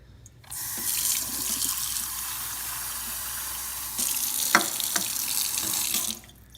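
Running tap water rinsing kiwi seeds in a container, a steady close rushing flow that stops and resumes with brief splashes and knocks, then cuts off.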